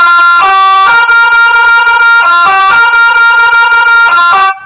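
A loud musical car horn blares a repeating five-tone melody, its bright brassy tones cycling through a short tune several times before cutting off.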